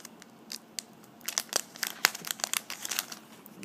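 A 2011 Upper Deck SPX football trading card pack wrapper is torn and crinkled open up close, with sharp irregular crackling bursts that grow denser toward the end and little else in the background.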